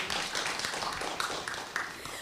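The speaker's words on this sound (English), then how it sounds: "Another big round of applause." Audience applause at a panel discussion event: a dense, continuous patter of many hands clapping at a moderate distance, with a few sharper individual claps standing out, and no speech over it.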